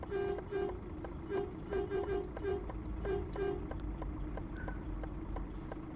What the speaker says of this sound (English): Why did I honk at him? I don't know, just testing out the horn.